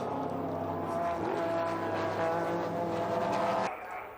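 Group C race cars, among them Rob Sherrard's Joest Blaupunkt Porsche 962 with honeycomb chassis, roar past at Silverstone in a loud sustained engine drone that cuts off abruptly near the end.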